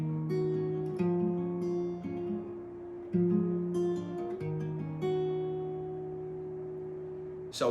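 Guitar strings played individually, a slow sequence of single ringing notes and sustained chord tones layered together, close and clear, with no talking.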